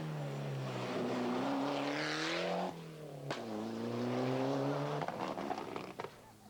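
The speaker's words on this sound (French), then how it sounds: "Au volant de son escorte RS 2000, le Verviétois Dominique Mathy régale à nouveau les spectateurs" A Ford Escort RS 2000 rally car races along a stage at a 1996 Belgian rally near Hannut, its engine revving hard and rising in pitch, briefly lifting off, then climbing again as it passes close by.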